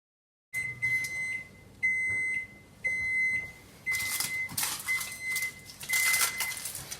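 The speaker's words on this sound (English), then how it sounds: "turn off the broiler and set your oven to 400 degrees." An electronic kitchen oven control panel gives a series of sharp, high beeps as the temperature is keyed up to 400 degrees, with clicks and kitchen clatter between the tones and no talking.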